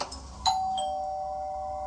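A doorbell rings once at night, a clear two-tone chime that rings on and slowly fades in a quiet house.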